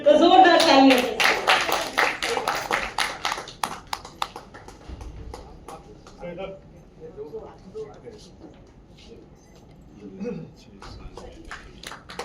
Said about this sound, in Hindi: तो जोरदार तालियां से।